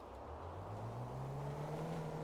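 A Mercedes C-Class engine in GTA 5 hums steadily, its pitch climbing smoothly as the car accelerates, with no voices.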